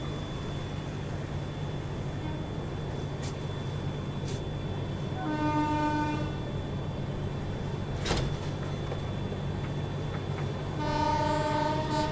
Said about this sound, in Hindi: अभी देखो सामने से एक ट्रेन भी आ रही है क्रॉसिंग के लिए